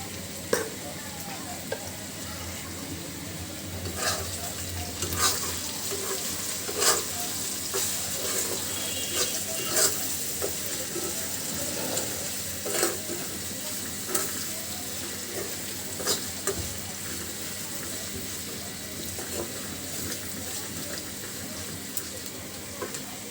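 Onion and garlic fry in a pan for a Bengali village fish dish, with a steady sizzle under repeated sharp scrapes and clinks of a spoon being stirred through, heard close and alone.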